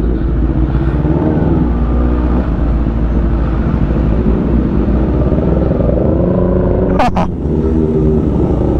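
Engine roar of a big motorcycle passing through slow festival traffic in Calasiao, Pangasinan, a loud continuous motor drone with a brief sharp rise near the end, close by.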